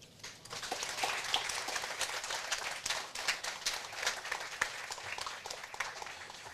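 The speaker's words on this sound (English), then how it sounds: "Big round of applause." Ceremony audience breaks into sustained applause at a veterans home's 10th anniversary celebration in Hilo, a dense steady wash of many hands clapping throughout without voices.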